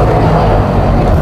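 Trabant engine running very loudly with smoke pouring out the back, a harsh, dense and steady drone that fills the whole moment with no pause.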